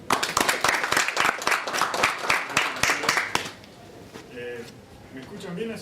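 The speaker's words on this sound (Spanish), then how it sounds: "Lo recibimos con un fuerte aplauso" A conference audience gives a speaker a burst of brisk, uneven clapping for about three seconds, close and fairly loud, which stops abruptly before a voice begins talking.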